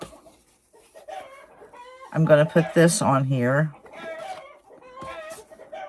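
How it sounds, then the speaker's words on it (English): Loud, busy clucking from several chickens crowds the middle of the clip, with someone talking before and after over the flock. "I don't know what those chickens are doing. But they're sure noisy."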